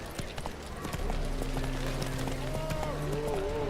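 Roach the horse's hooves in The Witcher 3, a steady clip-clop of trotting through natural surroundings, moderately close, with musical tones and ambient game sound underneath.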